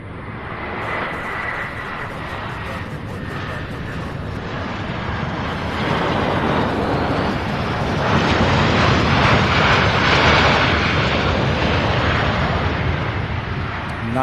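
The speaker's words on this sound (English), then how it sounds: "Nice, beautiful landing by Delta there." A Delta airliner lands at Louisville International Airport with a loud jet roar that swells and stays sustained, and radio chatter sits faintly in the background.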